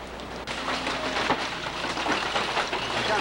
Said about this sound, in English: it's fucking raining out there